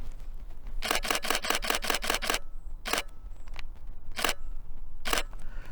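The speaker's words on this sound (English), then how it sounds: "So this is the burst rate at 5 frames per second till the buffer fills." Nikon D3400 DSLR firing a 5 frames-per-second shutter burst: about eight crisp, evenly spaced mechanical clacks in quick succession, then a few slower, isolated shots as the buffer fills, loud and close in a quiet room.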